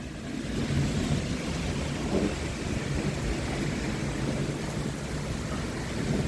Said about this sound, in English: These storms are getting fierce.